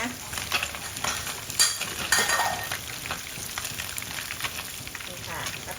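Fish frying in hot oil for a Thai kitchen meal gives a close, steady crackling sizzle, dense and even throughout, with a few sharper pops standing out.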